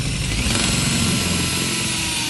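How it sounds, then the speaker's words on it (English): Steady, loud whine of a power drill with a long sharp bit boring through aluminium ducting, a continuous grinding drone throughout with no pauses. "with a long sharp drill bit now, just go in each corner"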